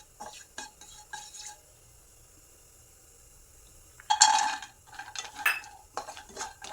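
Cashews stirred in hot ghee in a pan: quiet, sparse clinks and scrapes of a utensil against the pan, with a louder cluster of stirring toward the end.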